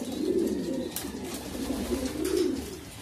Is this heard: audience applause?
no